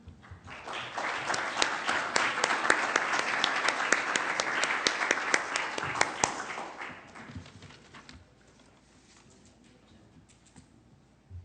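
An audience greets speakers at a talk on intimacy and interstitial cystitis with applause that swells quickly, holds steady for about six seconds, then thins to scattered claps and fades out.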